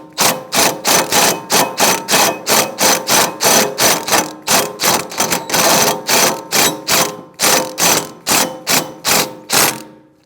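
A ratchet driving a small T30 Torx mounting screw on a rear wheel hub assembly of a Chevrolet Malibu, loud close rapid clicking bursts repeated in a steady rhythm with brief pauses, no talking.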